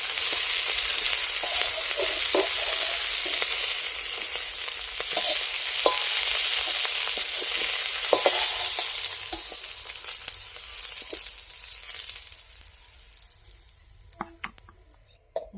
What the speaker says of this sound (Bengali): ডিম ভাজা তেলের মধ্যে আমি ডিমগুলো ভাজি নেব